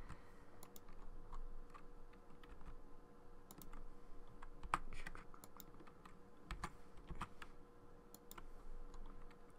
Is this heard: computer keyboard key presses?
yes